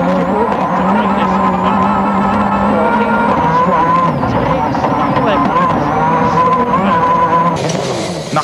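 A Peugeot rally car at Rally Australia 2003 roars past at full throttle, its engine note rising and falling through gear changes under steady commentary.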